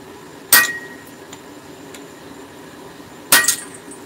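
Two sharp metallic hammer blows on hot metal during forging, about three seconds apart, each ringing briefly before fading into a quiet background.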